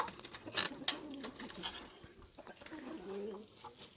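Chickens in a vineyard-house coop make soft clucks and low coos, faint and scattered with a few brief sharper calls, heard close but quiet against a hushed background.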